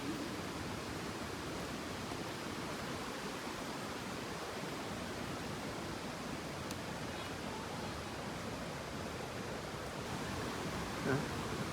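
Tat Kaeng Yuy waterfall near Vang Vieng, Laos, gives off a steady, dense rush of falling water that holds evenly throughout, loud and close.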